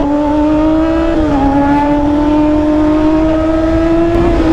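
Two 600cc sportbikes, a Yamaha R6 and a Kawasaki ZX6R, rev loudly and steadily up close, their high engine whine holding a strong pitch that dips briefly, then climbs again.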